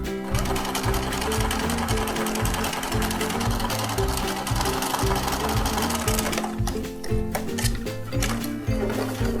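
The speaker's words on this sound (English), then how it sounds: "we're going to sew the armhole completely closed on our sewing machine" A sewing machine runs in rapid rhythmic stitching bursts, close and loud, with a brief slowdown partway through before continuing.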